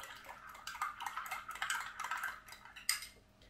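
A spoon stirs salt into milk in a bowl or cup to dissolve it, giving a run of light metallic clinks and scrapes against the dish, soft and close, with no voices.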